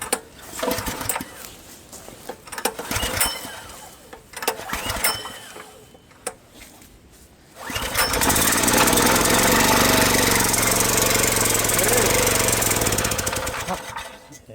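A small engine on homemade equipment, likely running on bad fuel, gives a few sharp pull-cord yanks and sputters outdoors among leaves, then catches and runs at a steady, loud, rattling drone for the rest of the clip.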